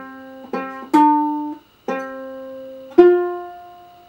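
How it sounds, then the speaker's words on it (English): Plucked ukulele notes pick out the opening five notes of Happy Birthday, each note clear and close, separated by short gaps and ringing briefly, with no talking. "So the first five notes would sound like this if we put them together."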